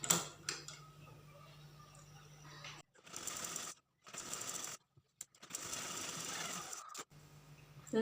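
Sewing machine stitching a lined blouse, running in several separate bursts of steady mechanical whirring broken by short pauses, close and moderately loud with no talk over it.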